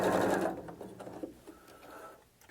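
Sewing machine stitching a straight seam on fabric for a double wallet, a close burst of rapid mechanical whirring that slows and fades into softer intermittent clicks.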